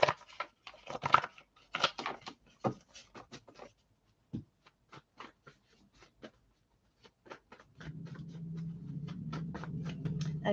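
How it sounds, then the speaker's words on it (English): A run of crisp, papery snaps and flicks, bunched then spaced out, like cards being handled and shuffled close by, followed by a steady low hum. "Just gonna shuffle some cards,"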